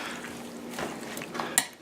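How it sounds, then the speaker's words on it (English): Brunswick stew being stirred in a cooking pot, soft scraping and sloshing strokes with a light metallic clink near the end, close and fairly quiet. "gonna stir it up really good"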